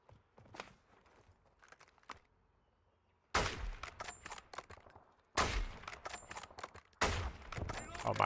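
Bursts of rapid gunfire from the video game Warzone, sparse single shots at first, then three loud dense volleys of automatic fire, close and harsh, with faint footsteps between.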